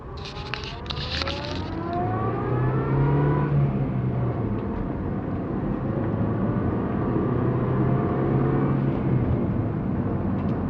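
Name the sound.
car driving along the road course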